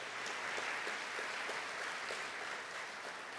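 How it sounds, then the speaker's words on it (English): An audience at an athlete award ceremony applauds steadily, a dense, even wash of clapping from many hands that holds at moderate loudness throughout, with no voices over it. "Everybody, can y'all please give them a round of applause?"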